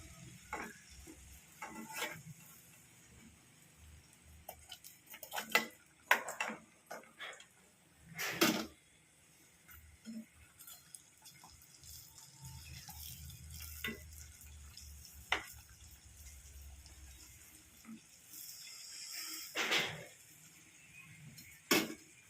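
A raw green plantain cutlet is flipped in a pan and keeps frying, with soft sizzling and scattered stirring and scraping taps over about twenty seconds, fairly quiet and close.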